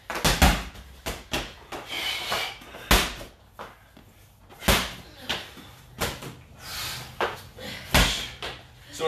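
A ball is slammed down repeatedly during twist slam exercises in a full body bootcamp workout, about a dozen loud, sharp thuds in an uneven rhythm with rustling between them.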